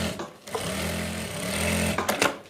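A sewing machine stitches a seam on a narrow salwar, a continuous close mechanical whirring run of about one and a half seconds with brief stops and restarts at either end.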